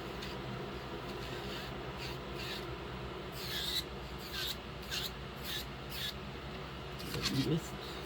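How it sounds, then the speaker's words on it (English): A nail file rasps back and forth while acrylic nails are shaped and sanded down, a series of short, close scraping strokes over a low, steady background hum. "sand them down to where you want them"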